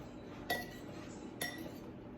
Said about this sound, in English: Let me get a little spoon and we'll stir this up.